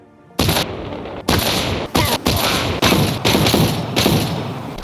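Weapons fire in a Minecraft modern combat mod, with a series of loud, close, booming gunshots in an irregular rhythm, each followed by sustained rumbling noise, and no voices.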